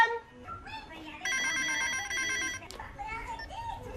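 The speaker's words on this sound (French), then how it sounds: "Maman, téléphone!" A house telephone rings once in a steady electronic burst of about a second and a half, set among faint voices and household sounds.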